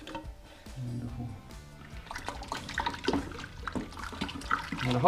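Hot water from a jug splashes and trickles steadily, dissolving a Mr Beer Diablo beer kit mix, a low continuous pour with faint clinks and no voices.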